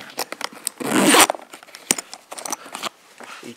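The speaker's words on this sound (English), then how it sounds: "each one of these zippers has a loop" A zipper on a Klein Tradesman Pro tool bag is pulled in several quick rasping strokes, one long loud zip in the middle, among light handling scrapes and taps.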